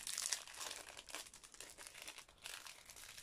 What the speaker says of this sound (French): J'essaie de remettre dans le sachet.